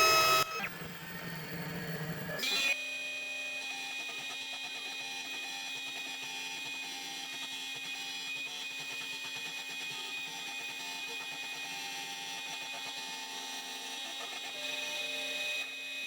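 A CNC machine milling out a circuit board: after a brief noisy start, a steady whining spindle tone with faint ticking motor movements runs on, close and even, with no talking.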